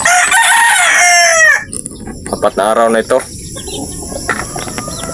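Loud chirping and peeping from young birds fills the first second and a half, then softer clucks and a short spoken phrase follow over faint background insects.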